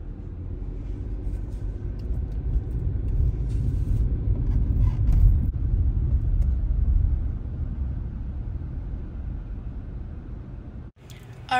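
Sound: car driving home

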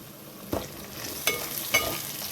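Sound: prawns frying and being stirred in a pan

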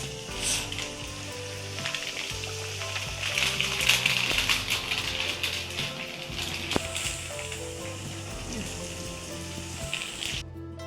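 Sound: rice flour nippattu frying in hot oil

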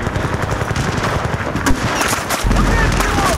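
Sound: gunfire in video game Battlefield Bad Company 2

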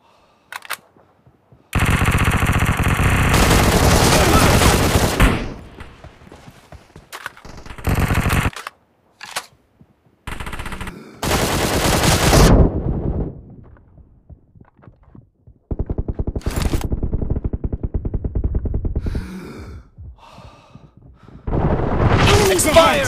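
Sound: enemy gunfire in a shooter video game

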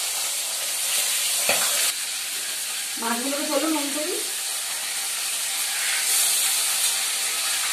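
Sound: fish frying in hot oil

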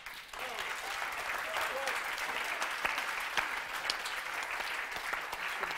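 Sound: applause

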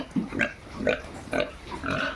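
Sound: pigs being raised on a farm

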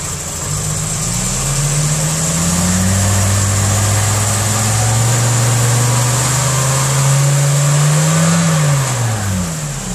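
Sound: VW Golf Corrado G60 engine idling and revving

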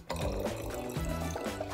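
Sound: liquid being poured into another container

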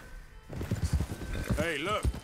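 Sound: horse hooves in video game Red Dead Redemption 2

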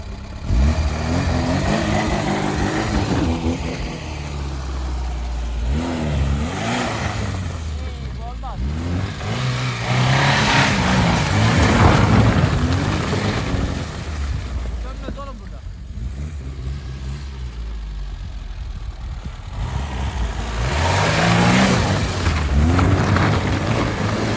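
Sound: Tofaş car engine revving while drifting in snow

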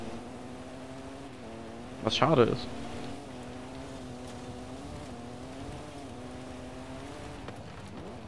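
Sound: twin-turbo Mitsubishi Dakar car engine in Forza Horizon 5 video game

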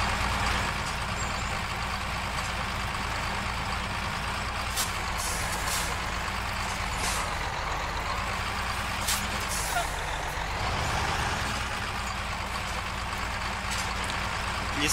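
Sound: Ural Polyarnik truck engine driving in the video game Spintires

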